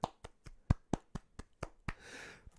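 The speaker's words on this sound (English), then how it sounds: "Round of applause." Scattered applause for a contest winner, a handful of sharp, separate claps that are fairly quiet and uneven, ending in a brief rustling swell.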